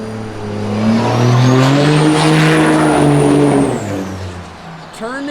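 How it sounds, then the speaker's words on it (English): 1960 Pontiac Bonneville convertible with an original automatic, engine running with a steady droning hum that swells and then eases back, close and loud, while someone talks over it. "turn the key, point the direction, car runs and drives great"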